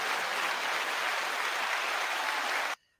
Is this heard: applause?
yes